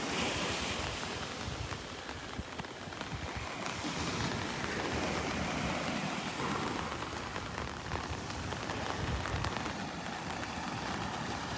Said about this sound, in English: I'm assuming you can hear the pitter-pattering of the raindrops hitting my umbrella